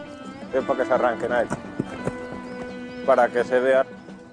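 Hooves clip-clop in quick rhythmic bursts during a display of traditional Spanish horsemanship, with a horse whinnying and a narrating voice running over the sounds throughout.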